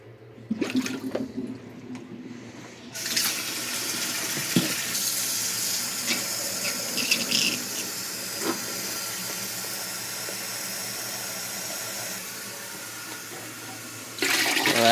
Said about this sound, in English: We're adding some more water.